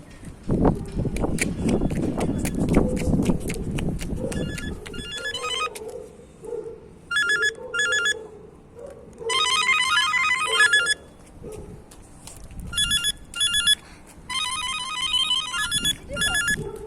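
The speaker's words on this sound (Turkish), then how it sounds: "Telefonunu çalıyor" A mobile phone ringtone plays outdoors while people wait outside after an earthquake in Izmir, a repeating electronic melody in loud bursts with pauses, preceded by a noisy rumbling stretch with possible footsteps.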